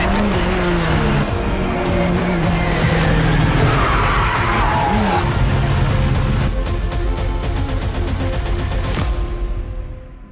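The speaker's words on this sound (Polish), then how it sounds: "Bolid Formuły 1" A Formula 1 race car drives past with a loud, continuous engine roar and tyre noise, the pitch sweeping as it moves before cutting off abruptly at the end.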